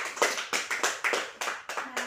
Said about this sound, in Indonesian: Berikan tepuk tangan untuk Sorni.